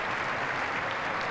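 Steady applause from players on the pitch and fans in the stands at a women's football cup final, dense and continuous, with no talk over it.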